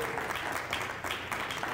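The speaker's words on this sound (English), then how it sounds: "Give her a hand clap." A church congregation applauds steadily during a Sunday service after a minister calls for a hand clap, the clapping dense and continuous and a bit distant, with no voices on top.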